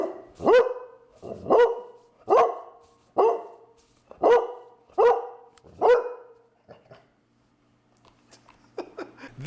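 A pet dog, a female, barks about seven times in a steady rhythm, close and loud, then falls quiet with only faint rustling at the end.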